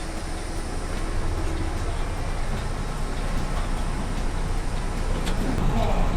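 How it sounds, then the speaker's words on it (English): The low rumble of an airport tram at Sacramento International Airport rolls steadily along, with mechanical hum and faint rattles throughout and no clear voices. "Let's get on this tram back to the Sky Bridge."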